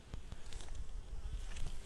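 Honeybees buzzing faintly at a hive while being fed sugar solution during a drought, a soft steady hum with light patter and no talk.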